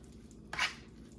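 A thick dump-and-go casserole mixture with extra sharp cheese is stirred once, giving a single short, soft squishing sweep that is faint and close, with quiet room noise around it.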